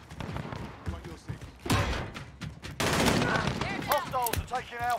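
Pistol and other gunshots in Call of Duty Modern Warfare, several sharp loud cracks in quick succession over game noise and voices, with busy clatter throughout.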